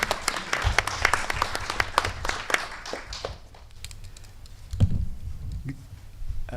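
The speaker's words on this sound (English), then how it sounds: "So please give her a round of applause" A crowd applauds with dense, crackling clapping that gradually thins out and fades, followed by a speaking voice.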